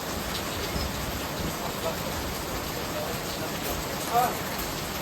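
Steady light drizzle hisses and patters continuously, fairly close, with no clear voices above it.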